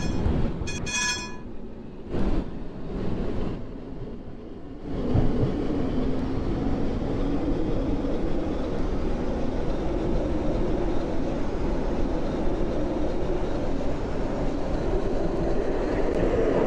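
A tram runs steadily through a Roblox game on the Bathwick town Line 4 toward Arnold, a few brief clicks and clunks at the start giving way to a continuous rumbling drone.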